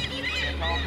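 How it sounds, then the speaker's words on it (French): Goose-like honking birds in a period boat-departure ambience inside a large exhibition hall: continuous overlapping nasal calls at moderate loudness over a steady low hum, with faint voices mixed in. "c'est des départs de bateaux avec les oiseaux qui accompagnent"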